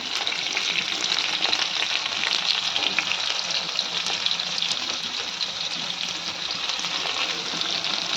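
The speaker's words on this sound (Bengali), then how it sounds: "লাল লাল করে এটাকে ভেজে নেব" Small potatoes with turmeric frying in a pan, a dense, even sizzle held at constant loudness for the whole stretch, close and uninterrupted, with no voices.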